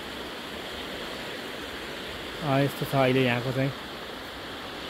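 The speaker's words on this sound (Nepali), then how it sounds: "खोला मजाले बगिराखेको छ।" River flowing near the Sukute bridge in Sindhupalchok, Nepal, giving a steady broadband rush of water that fills the whole stretch. Someone speaks briefly over it partway through.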